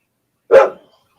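A pet dog indoors at home gives a single sharp, loud bark close by, with nothing else around it.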